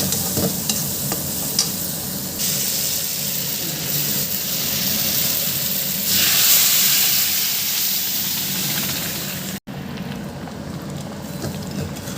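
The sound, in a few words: spices being fried and stirred in a pan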